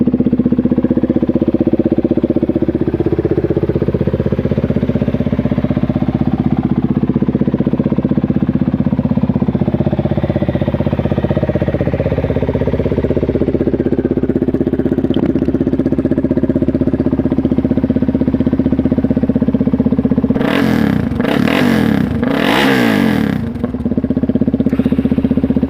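A Kawasaki KFX 400 ATV engine runs after a cold start, holding a loud, close, steady idle with small wavering rises in pitch, then a few quick blips of the throttle near the end.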